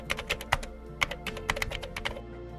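Steady typing on a computer keyboard as a report name is entered: a quick, continuous patter of crisp key presses with slightly uneven rhythm, close and clear, with no voices.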